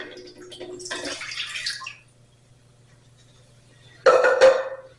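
Two cups of water are poured into a cooking pot on a stove burner while making poached pears. Two short bursts of splashing and trickling are separated by a quiet pause, over a faint low hum.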